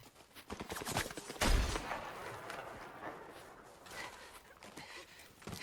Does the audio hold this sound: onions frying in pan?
no